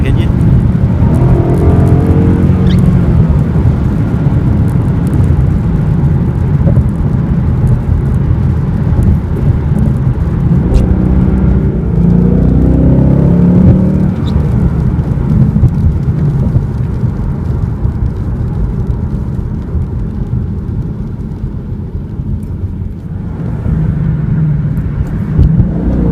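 Exhaust of a 2016 Ford Mustang GT Fastback with a 5.0L V8 on a short drive: a loud, continuous engine roar with a couple of rising revs, the note dipping slightly toward the end.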